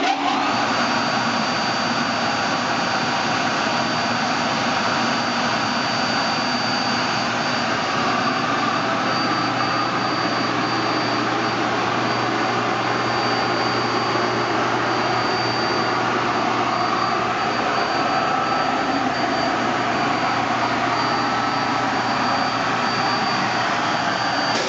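A Schmalz 3.3 kW (4.4 hp) vacuum pump runs inside a sound enclosure, giving a loud, constant, even roar with a steady high whine on top and no change throughout.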